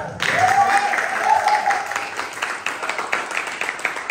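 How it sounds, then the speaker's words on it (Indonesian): Schoolchildren in a classroom clap together in a lively burst of applause with some excited voices and a whistling tone, tapering into scattered claps. "Selamat, kita tepuk tangan dulu."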